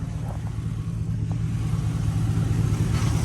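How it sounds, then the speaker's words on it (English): Pickup truck with a brand-new 5.3L LS V8 idling with a low, steady rumble, close and continuous for a few seconds, no voices. "Motor sounds great."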